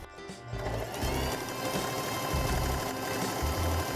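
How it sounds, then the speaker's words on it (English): A sewing machine stitches buttonholes near the bottom of a dress skirt, running in quick rhythmic bursts with brief pauses between them, close and fairly quiet. "I'm gonna start sewing them at the very bottom of the skirt"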